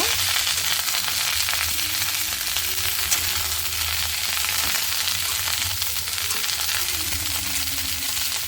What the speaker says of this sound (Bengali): তেলের ওপরে ফুলকপিগুলো দিয়ে দিচ্ছি দিয়ে একটু লাল লাল করে ভেজে নেবো